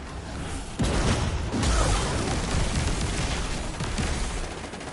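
Enemy gunfire in the video game Destiny 2 rattles in a dense, continuous volley with booming impacts, loud and sustained for several seconds, no talking.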